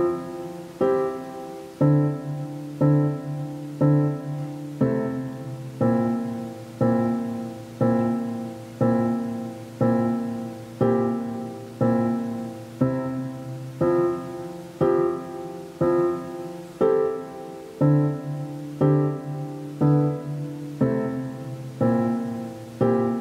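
A plain keyboard part repeating simple sustained chords with a low root, each struck and left to decay in a steady, even rhythm, no ornamentation.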